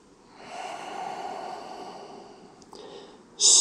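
Slow audible breathing during a seated yoga forward fold, a long soft exhale followed by a sharper sniff-like inhale at the end.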